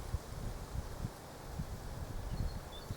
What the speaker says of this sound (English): Is that wind going to bother my film now?